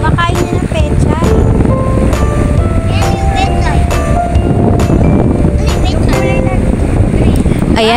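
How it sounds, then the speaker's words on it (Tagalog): An electric fan runs loudly right beside the microphone, a steady whooshing roar that fills the whole clip while voices talk over it. "Pasensya na, ang lakas ng background ng electric pan namin."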